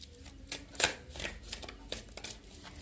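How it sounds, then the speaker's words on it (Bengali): Oracle cards drawn and shuffled from a deck, a close papery riffle of soft slides and flicks with one sharper snap near the start, steady and quiet with no talking. "এবার আমি এখান থেকে দুটো কার্ড নেবো"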